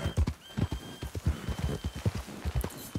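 Horse hooves from the video game Red Dead Redemption 2, a steady rapid clip-clop of a galloping horse, close and fairly loud, repeated strides throughout without pause, no speech.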